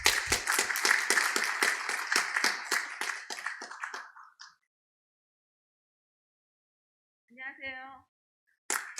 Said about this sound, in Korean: 모두 큰 박수로 의원님을 맞이해 주시기 바랍니다.